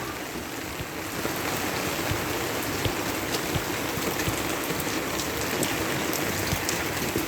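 Heavy typhoon rain from Typhoon Carina in Pasig pours steadily and loudly, a dense continuous hiss of water with scattered splashes and drips, no voices.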